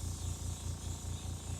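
A spray gun lays orange paint onto a crankbait lure, a short steady hiss lasting under two seconds, close and quiet with no voices.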